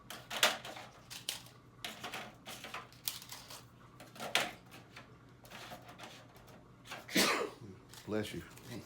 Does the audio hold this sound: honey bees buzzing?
no